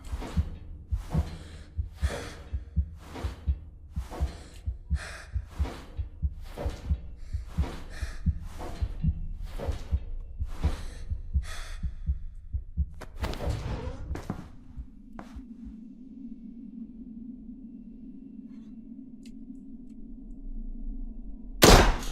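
Heartbeat effect in the horror game Giggleland: regular low thuds for about fourteen seconds alongside breathing, then a sharp burst and a sustained droning hum as the beats stop.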